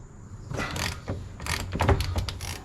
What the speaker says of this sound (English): I'll get my ratchet off of that.